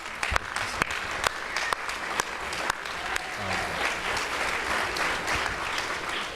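Steady applause from an audience at a community forum, a dense even wash of clapping with a few sharp individual claps standing out, moderately distant and without talk.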